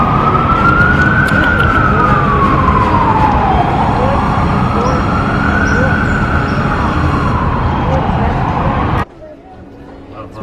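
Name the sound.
city emergency vehicle sirens in Union Square, New York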